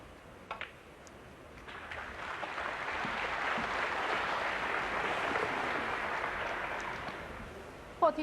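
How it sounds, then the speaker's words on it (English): Applause from a snooker crowd at the Shanghai Masters, a soft, steady patter that swells in the middle and fades, heard from a distance with a few sharp knocks at the start and end. "You wouldn't call that rapturous applause, would you?"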